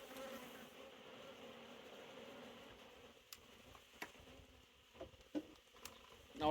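Honey bees buzz around an open hive during a split, making a steady, faint, continuous hum with a few soft knocks and rustles over it.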